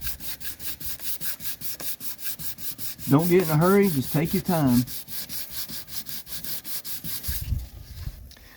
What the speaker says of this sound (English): once it dries, you just got to sand it smooth